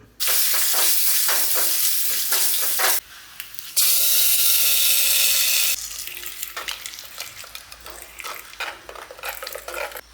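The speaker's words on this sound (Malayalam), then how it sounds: "വെളിച്ചെണ്ണയിൽ നമുക്ക് കടുക് അതുപോലെ വറ്റൽമുളക് ഇത് താളിച്ച് ചേർക്കണം" Mustard seeds and dried chillies tempering in hot coconut oil, giving a loud, steady sizzle with spattering crackles and a brief dip partway through before the frying settles to a softer hiss.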